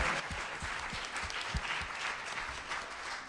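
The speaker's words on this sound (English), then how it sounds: "I think that deserves a round of applause, doesn't it?" An audience at a talk on London gin palaces gives a short round of steady applause, many hands clapping together at moderate volume for a few seconds.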